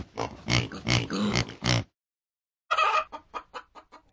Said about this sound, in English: To the cluck of the hen and the song of the wren.